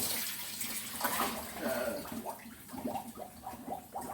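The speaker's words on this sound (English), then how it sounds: "I have the water boiling on the stove." A pot of water boils on a stove for cooking smoked turkey necks, giving a steady watery hiss and bubbling with a voice faintly audible over it.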